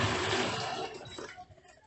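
A washing machine being tested after a control board repair releases water in a loud rushing gush that fades and trickles away after about a second and a half.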